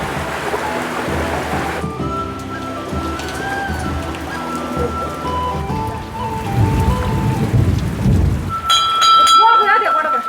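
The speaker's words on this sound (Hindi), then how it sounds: "बारिश लग गई भयंकर वाली" Heavy monsoon-style rain pours steadily in the hills with rumbling thunder in the background, a dense continuous wash of noise that swells louder near the end.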